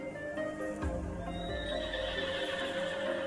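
A horse-bodied Lunibus from Honkai: Star Rail lets out a loud, close neigh, with a heavy stomp and clip-clop of hooves partway through over a steady ambient game-music backdrop.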